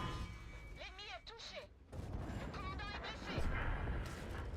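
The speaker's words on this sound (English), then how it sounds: "that was a very, very fortunate shot onto those tanks" Cannon fire from an AMX 12t light tank in World of Tanks, with booming shots and gunfire bursts under a rumbling battle bed, and someone talking over parts of it.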